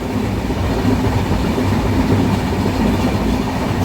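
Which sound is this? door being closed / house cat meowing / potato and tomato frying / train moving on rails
train moving on rails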